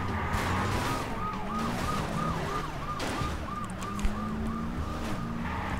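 Police car siren in the video game Wheelman, a wailing two-tone rise and fall repeating steadily over a continuous rumble of car engine and traffic, loud and close throughout with a brief thump near the end.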